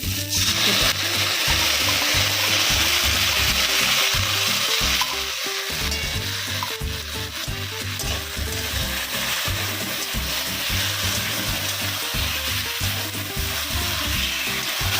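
Fried chilli chicken sizzles loudly in a pan as sauce goes in, a dense continuous hiss broken by repeated scraping and stirring strokes of a utensil, with no one talking.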